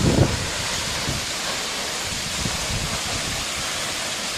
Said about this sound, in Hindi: मैं ज़रा दूर ही रहूँगा झरने से, वरना मेरे कैमरे पे छींटा आ जा रही है।